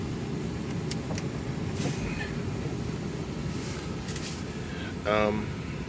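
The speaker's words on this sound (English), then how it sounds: "I'm going to turn on my truck a little bit just to get the anti-fog fans going" Anti-fog defroster fans run inside an idling truck on a rainy day in Iowa: a steady, low blowing hum, with someone talking over it and a brief tonal beep near the end.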